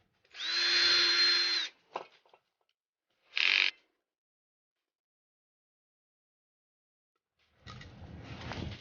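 A power tool cleans off a Skunk2 trailing arm from a totaled RSX Type S, running in a loud steady whine for about a second, then a short second burst, then a quiet pause before a rougher grinding run starts.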